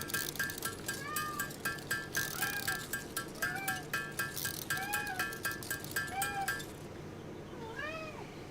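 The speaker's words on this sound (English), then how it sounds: "Both my cats have come to visit us now." Two pet cats meowing indoors, repeated short rising meows at a steady pace over a constant hum of game music, fairly close and moderate in level.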